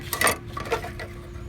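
A metal dipstick slides back into a lawnmower engine's fill tube, making a few quick, light metallic clinks and scrapes up close, then a softer rattle fading out.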